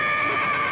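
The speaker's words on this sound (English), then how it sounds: "Well, I thought I heard a horse." A horse neighs in a single loud, close, drawn-out whinny with a steady tonal quality and no talk over it.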